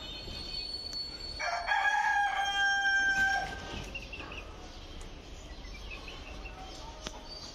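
A rooster on a rooftop chicken farm crows once, loud and drawn out, near the start. Afterwards only quieter background clucks and scratching sounds remain.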